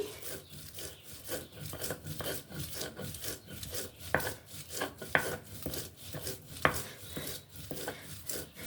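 Tulsi leaves with their stems being ground on a grinding stone, giving a rhythmic rubbing, rasping scrape repeated steadily with occasional sharper knocks, close and fairly quiet, no voices.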